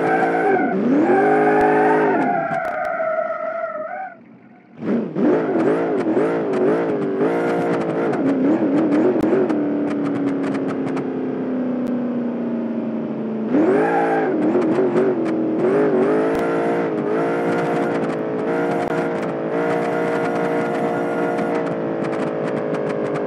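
A Plymouth Road Runner in a video game revs hard through its gears, the engine note climbing and falling close and loud, with tire squeal and skidding mixed in throughout.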